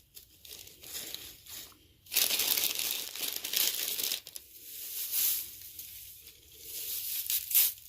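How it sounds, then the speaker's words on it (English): Pink paper crinkled and stuffed around the front and sides of a Valentine gift basket, giving close, sustained rustling and crunching in long swells with brief quiet gaps. "now I'm just going to take my pink paper and just go around off in the front."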